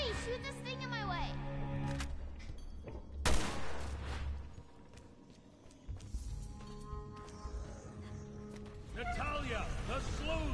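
Gunfire in the video game Resident Evil Revelations 2, sharp bursts of shots amid dense game music and effects, with a loud crack near the middle and busy layered sound throughout.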